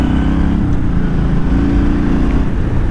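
A Yamaha Stryker cruiser motorcycle's engine drones steadily at close range while riding, a continuous low throbbing rumble with a slight rising rev and no voices.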